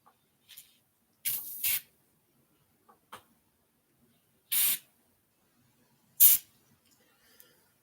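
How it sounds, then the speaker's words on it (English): Several short hissing bursts from an aerosol can of silicone oil spray, close up, separated by pauses of quiet. "This is silicone oil spray."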